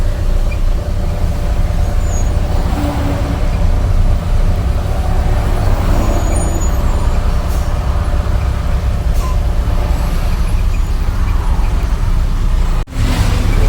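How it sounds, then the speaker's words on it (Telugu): Traffic stuck in a jam on the road to Choutuppal after a car accident: a constant roadway rumble of idling and creeping cars and buses, fairly loud and close, with a brief thump near the end. "చాలా ఘోరంగా అయితే ట్రాఫిక్ జామ్ అవుతుంది"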